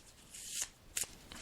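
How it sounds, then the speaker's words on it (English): Unicorn energy healing cards are shuffled by hand, soft riffling swishes rising in two or three quick bursts close by, quiet and without speech. "I'm just shuffling the cards now"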